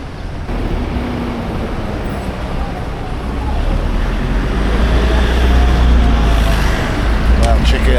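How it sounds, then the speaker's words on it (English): Continuous city street traffic in Kuala Lumpur rumbles loudly and steadily, a dense wash of engines and road noise from passing cars, buses and trucks that swells slightly toward the end. "Traffic anywhere, everywhere."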